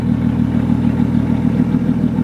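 A BMW 135i with a newly installed twin disc clutch idles up close, a steady loud engine drone with a fast, even rattling chatter running through it for the whole stretch.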